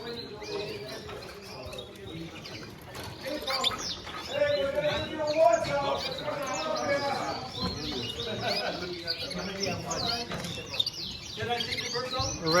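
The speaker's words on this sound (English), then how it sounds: "Nice birds." Birds chirp and call throughout a busy indoor bird show in Fall River, Massachusetts, with overlapping tweets at moderate volume under steady crowd chatter and people talking nearby.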